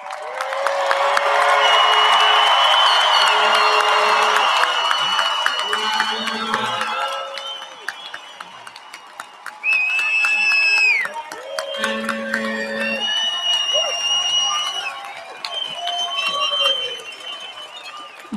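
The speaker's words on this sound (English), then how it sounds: "Let's bring the house down with a final round of applause in recognition of our graduates." A large crowd at a university commencement ceremony for graduates applauds, cheers and whoops loudly, with a sustained roar that dips midway and then swells again, and shouts and high yells ring out over the clapping.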